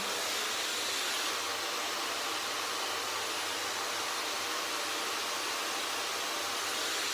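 Hair dryer fitted with a diffuser drying curly hair, a steady close broadband whoosh with a low motor hum that holds constant throughout, no talking.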